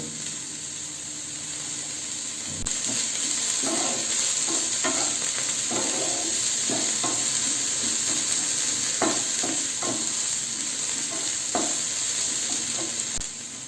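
Green peas tipped into a wok with cabbage pieces, frying with a steady loud sizzle while a utensil stirs and scrapes in irregular clicks and knocks; no voices.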